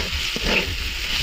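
Dried churi fish is dropped into spices frying in oil and stirred, producing a steady close sizzle with a brief scraping stir partway through.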